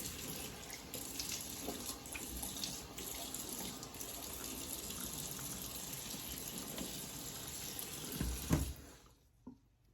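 Cold water runs steadily from a tap with a constant splashing hiss, close by, cutting off near the end, before applying an alum stick after a shave.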